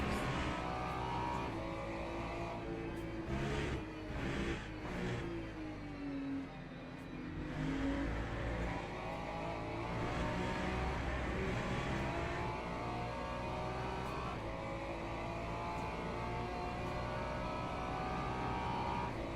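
Race car engine in the Le Mans Ultimate racing game, a steady loud drone with shifting pitch as the car runs in another car's slipstream, with brief revving swells and no talk.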